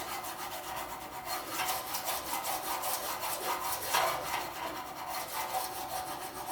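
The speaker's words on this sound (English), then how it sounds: "I like to file like this. I get a nice beveled edge very, very quickly." A fine file rasps steadily along the edge of a metal hard-ground etching plate, beveling it with quick, continuous back-and-forth strokes, close and fairly quiet with no pauses.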